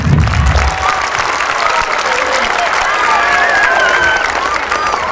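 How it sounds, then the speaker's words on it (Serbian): A crowd claps steadily and loudly, a dense wash of applause with a few scattered voices mixed in. "Molimo za još jedan veliki aplauz za decu iz Kolibrija"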